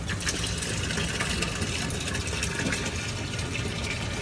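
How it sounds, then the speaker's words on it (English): Water rushes steadily into a fish tank in a fish room, a continuous broadband splashing and hiss with a low pump-like hum underneath, loud and close throughout with no talking. "so that's how we fill a tank"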